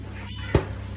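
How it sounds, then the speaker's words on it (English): A single short cat meow, sharp and fairly close, rising out of a quiet steady background hum. "This is my cat Paul."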